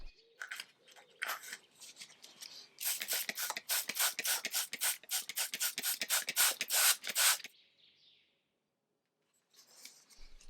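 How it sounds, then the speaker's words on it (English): Woodworm treatment spray is pumped onto an antique elm marquetry table in a rapid run of short, close spray bursts, with scattered rubbing before and after and no talking. "I used my woodworm treatment spray for this piece"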